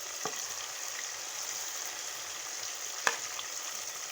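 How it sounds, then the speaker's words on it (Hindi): Marinated beef pasanday slices frying in a pan, giving a steady, hissing sizzle throughout, with a couple of brief utensil taps, one near the start and a sharper one later, and no voices. "अब हम इसमें जो है मसालेदार जो है वो बीफ ऐड करेंगे।"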